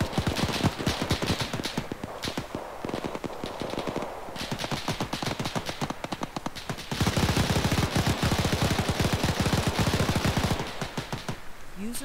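Rapid automatic gunfire in the video game ArmA 3, dense overlapping bursts from several weapons that crackle almost continuously and grow louder midway, with a brief voice near the end.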